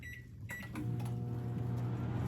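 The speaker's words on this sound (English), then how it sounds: "And stick it in the microwave for like 20 seconds." A microwave oven hums steadily as it warms chicken topped with Swiss cheese for French onion soup chicken, a brief click and door rattle giving way to a constant close, low drone.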